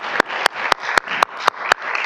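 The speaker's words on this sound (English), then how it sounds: "A round of applause." Applause at a board meeting honoring a new Miss Oakland County's Teen: steady crowd clapping with sharp, loud claps recurring roughly every quarter second over a dense wash of hands, no talking.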